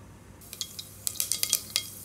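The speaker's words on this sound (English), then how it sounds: "So as you can see, the mustard seeds have crackled well." Mustard seeds crackle and pop in hot oil for a dal tadka tempering, with sharp, irregular snaps and spits that grow busier after the first half second, close and clear.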